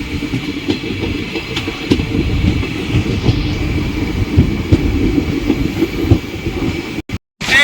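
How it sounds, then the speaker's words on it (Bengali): A passenger train runs between Balurghat and Malda, with a steady low rumble of wheels on rails and faint rhythmic clatter throughout, heard from inside at close range before a brief dropout near the end. "আবার ট্রেন ছাড়তে শুরু করে দিল, ট্রেন চলতে শুরু করে দিল"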